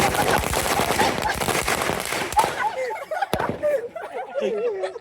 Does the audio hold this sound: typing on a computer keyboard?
no